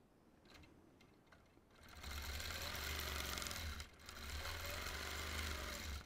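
A sewing machine quilting starts after a quiet stretch, then whirs loudly and steadily up close with one brief dip midway, running alone without talk.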